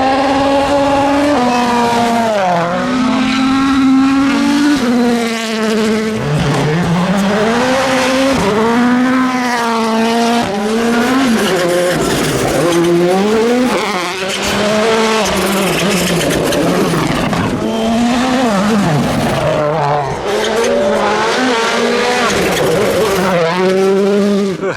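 WRC rally cars on the Sardinia gravel stage roar past one after another, engines rising and falling in pitch through gear changes and revs, loud and close, with a continuous high-energy howl and no talking.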